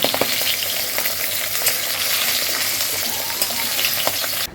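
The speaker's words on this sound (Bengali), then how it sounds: "আমি এখন রান্না বসিয়ে দিয়েছি দুপুরের জন্য। মাছ ভাজা এখানে হলে" Fish frying in a pan for lunch, a steady loud crackling sizzle that fills the whole stretch without pause and cuts off abruptly at the end, with no voices over it.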